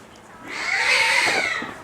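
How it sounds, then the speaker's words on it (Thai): Cats yowling and screeching at each other in a fight, a drawn-out rising caterwaul lasting over a second, close and fairly loud, ending with a sharp burst. "แมวแมวมันกัดกัน"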